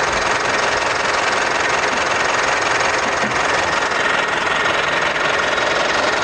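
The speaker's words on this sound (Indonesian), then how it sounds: "mesin turbo diesel Pajero Sport Dakar 2016." A 2016 Mitsubishi Pajero Sport Dakar turbo diesel engine idles with a close, continuous clattering rumble and a broad steady hiss, with no talking.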